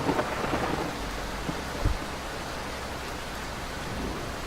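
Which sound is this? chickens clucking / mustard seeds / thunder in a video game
thunder in a video game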